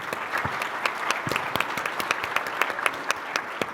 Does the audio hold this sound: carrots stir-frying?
no